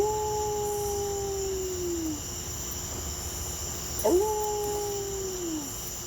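A dog howls at night in two long, drawn-out cries that slide downward in pitch, separated by a pause, with a steady chorus of crickets and insects droning in the background.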